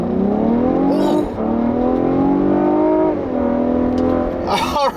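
A 2016 Cadillac CT6 with a 3.0-litre twin-turbo V6 and all-wheel drive accelerates hard from inside the cabin, its engine note climbing through two gear shifts, loud and continuous, with brief bursts of excited voices.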